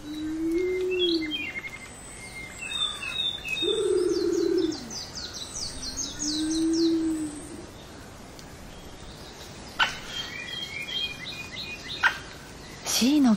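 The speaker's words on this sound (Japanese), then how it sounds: "奄美大島だけに生息する大型のキツツキです" Forest birds on Amami Oshima, where Owston's woodpecker lives: repeated low hooting calls, rapid twittering and chirping phrases, and a few sharp knocks or tapping sounds against a quiet woodland background.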